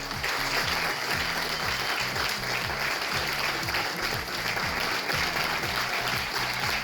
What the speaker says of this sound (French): On peut applaudir le travail, là.